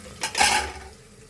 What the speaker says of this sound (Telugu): ఇప్పుడు ఏం చేద్దామంటే మ్యారినేట్ చేసి పెట్టుకున్న చికెన్ వేసుకున్నాం.